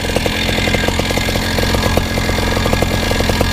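A Virus paramotor engine idles after an electric start, a loud, close, steady buzzing two-stroke rattle with fast regular firing pulses and no voices over it.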